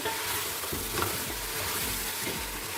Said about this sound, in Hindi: अभी देखिए हमारी चांपे वो अच्छी तरह फ्राई हो रही है